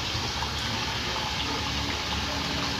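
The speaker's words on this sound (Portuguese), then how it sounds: "Olha o nosso sump aí batendo, né, galera?" Water churns steadily in the sump of a simple water-tank fish farming system with settling tanks and mechanical and biological filtration, a constant loud gushing rush with no pauses and no voices.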